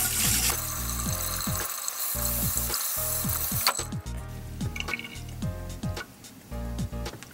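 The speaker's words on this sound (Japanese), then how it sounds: "これもね、水洗いしちゃいます、基板もね。" Water runs steadily from a tap as a remote control circuit board is rinsed beneath it, with the stream splashing and shifting close by as the board is moved and handled.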